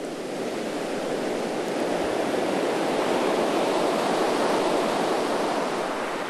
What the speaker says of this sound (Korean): 매서운 파도가 이어지는 겨울바다